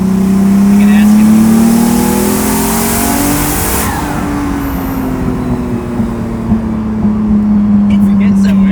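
A 750 hp twin-turbo Lamborghini Diablo accelerates hard, its engine revving loudly in rising, shifting tones that ease off and build again, with voices talking inside the car over the roar.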